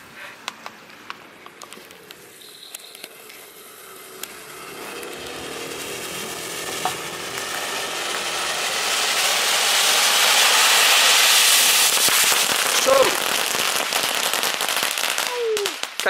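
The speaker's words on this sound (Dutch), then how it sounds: "Knetterballen van de Aldi." Crackling ball fireworks bought at Aldi go off in a dense, continuous fizzing crackle that builds in intensity and then holds steady, with scattered sharper pops and no talk.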